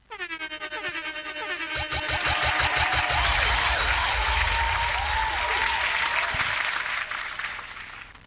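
Sustained crowd applause at a graduation ceremony, building over the first couple of seconds into dense, loud clapping that holds steady before easing slightly toward the end, with a tonal musical sweep heard beneath it at the start.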